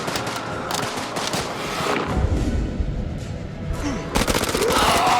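Gunfire in the horror video game House of Ashes, dense rapid bursts of shots and thuds that crackle loudly, pause briefly, then resume in another heavy volley near the end.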